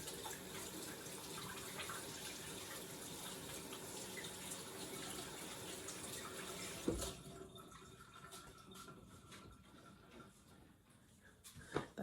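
Dough pucks rinsed under a running kitchen tap, a steady faucet stream splashing continuously before the flow eases and softer water sounds and small clatters follow, with no talking.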